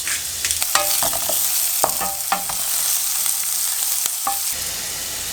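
Chopped red onion sizzling in hot extra virgin olive oil with a little black pepper while a spoon stirs it, giving a steady close fry with scattered clicks and scrapes.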